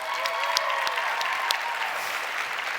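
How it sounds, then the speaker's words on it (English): An audience claps in a steady, dense round of applause that fills the whole stretch evenly, with a few sharper claps standing out near the front. "They deserve a round of applause, really."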